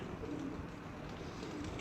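Pigeons coo softly at night on a rooftop in Faisalabad, Pakistan, a low repeated murmur over a steady background hiss, faint and close by.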